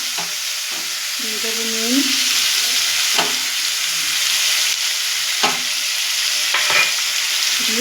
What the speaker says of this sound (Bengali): দেখুন আলুগুলো আমি ভেজে নেব।